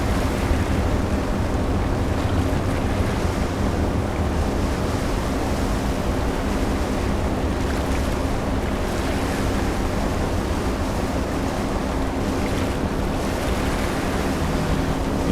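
A boat running at about 30 knots over glassy sea in the game Seafarer: The Ship, a steady, dense rush of water and engine with wind noise, continuous and loud throughout without pauses.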